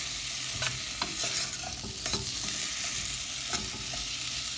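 A spoon stirs pepper and carrot in a pot for a Jamaican Sunday dinner, with repeated scraping strokes over a low background sizzle and no talk.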